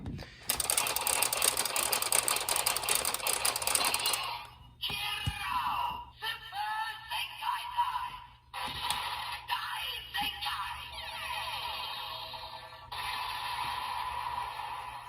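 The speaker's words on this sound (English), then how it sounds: "Got a nice laser beam sound coming from that." A GP Sentai Gear 05 toy from Kikai Sentai Zenkaiger fires a loud electronic laser beam effect. Dense buzzing zaps give way to sweeping, warbling electronic tones across several bursts, with no talking.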